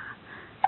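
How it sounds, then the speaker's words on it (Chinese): A child gives a single short, sharp hiccup near the end of a brief, quiet moment. "你打嗝哈"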